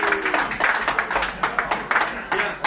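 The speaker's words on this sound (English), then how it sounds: "could I have a quick round of applause to my team?" A pub audience at a Wetherspoons in Leeds Station applauds the team during an award presentation, a short burst of mixed clapping from a nearby crowd with some voices underneath.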